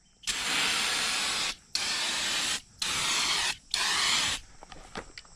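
Four long bursts of aerosol spray paint hiss in a row from a can held upside down, painting a 1972 Plymouth Satellite, each a few seconds long with brief gaps between, loud and close, followed by faint rattling.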